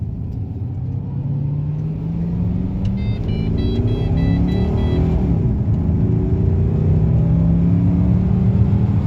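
A Lumina SS car accelerating, its engine rumble rising steadily through the gears in a long, even pull, with a loud, close drone and no talk.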